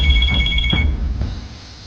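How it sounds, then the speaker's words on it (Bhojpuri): A telephone ringing with a short high electronic ring tone that stops after about a second, leaving a low room rumble. "भाई जी के फोन"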